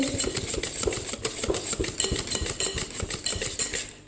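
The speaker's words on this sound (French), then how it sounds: "Et ensuite, on mélange. Alors, il faut bien mélanger." Sablé caramel butter cookie dough with peanuts is stirred briskly in a bowl, making rapid rhythmic scraping and clinking strokes that repeat steadily and close up.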